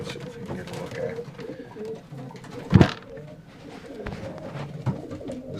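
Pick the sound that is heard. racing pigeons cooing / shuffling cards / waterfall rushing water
racing pigeons cooing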